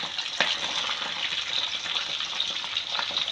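Fish frying in about a cup of hot oil, a steady bright hissing sizzle with a few sharper pops and crackles, close and continuous.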